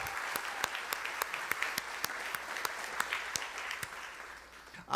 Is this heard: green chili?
no